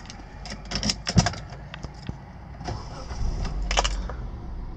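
A 2012 Hyundai Tucson GLS 2.0 16v automatic SUV starts up: a few sharp key and switch clicks come first, then the engine cranks and settles into a low, steady idle close by.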